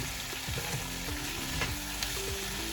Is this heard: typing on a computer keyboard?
no